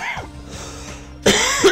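In the video game Danganronpa 2: Goodbye Despair, a character gives a short, close cough, followed by a second, louder throaty cough.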